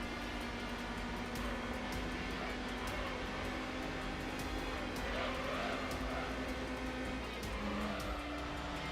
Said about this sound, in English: The Miata is going too fast